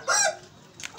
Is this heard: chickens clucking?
yes